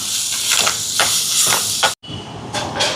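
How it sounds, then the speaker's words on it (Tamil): Onions with ginger-garlic paste sautéing in a pan for prawn string hopper kottu give a steady loud hiss with rhythmic scraping bursts as they are stirred, broken by a brief silence before the sizzle resumes. "இப்போ வெங்காயம் எல்லாம் வதங்கிட்டு இஞ்சி பூண்டு பேஸ்ட் வைப்போம். இது வதங்கட்டும்."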